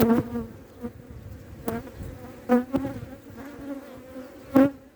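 Honeybees in a newly split hive buzz close by in a steady drone, with louder individual bees passing near at intervals.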